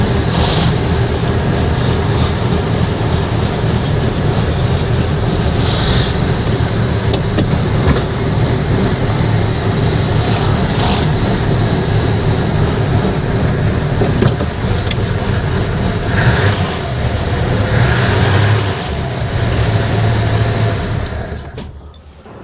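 A 1974 Dodge Dart's Slant Six 225 engine running on old gasoline after a new fuel pump install, giving a loud, steady, close-up mechanical roar with a constant rumble and no talking throughout.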